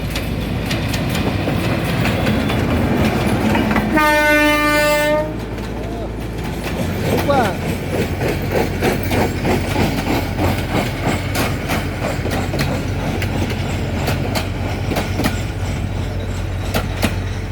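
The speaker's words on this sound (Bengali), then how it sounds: "এই যে ট্রেন" A train passes close by on a multi-track line near a lake, its horn sounding one long, loud blast before the steady clatter of wagons rolls on, with voices in the background.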